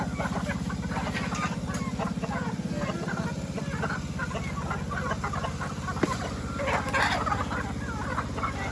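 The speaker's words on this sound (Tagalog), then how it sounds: "Pakainin natin tong mga manok." Chickens cluck and a turkey gobbles in a busy farmyard, the birds calling repeatedly over a steady low hum.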